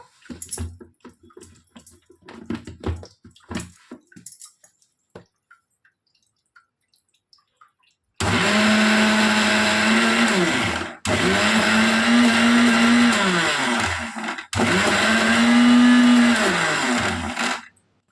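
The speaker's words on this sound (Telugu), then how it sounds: "ఇప్పుడు దీన్ని ఒక టూ సెకండ్స్ వరకు మాత్రమే మిక్సీ పడదాము" Some clinks and handling noises, then a mixer grinder whirs in three loud bursts while blending cream for homemade ghee, with short pauses between runs.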